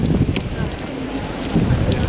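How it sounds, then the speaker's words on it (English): Rain falls steadily on a walk through Vienna, a close, continuous patter mixed with wind buffeting the microphone and faint street noise. "I'm getting wet in the rain, so let's go"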